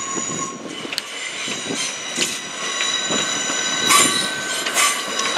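A GWR passenger train runs through Willesden Junction bound for Reading, with steady close rumble, rhythmic wheel clicks over rail joints and high metallic wheel squeal, and no voices.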